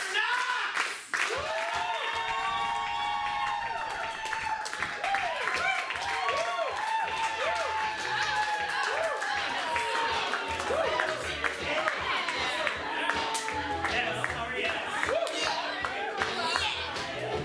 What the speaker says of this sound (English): Let's get a clap going.